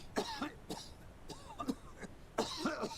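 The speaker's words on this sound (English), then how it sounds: "Excuse me for coughing in your face." Several coughs in quick succession, close and fairly loud, with short pauses between them and a final burst of two or three coughs.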